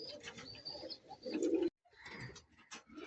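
Pigeons kept in pairs for sale, including a male bird, coo in soft, low repeated calls close by, with a brief pause partway through and light chirps and rustling around them.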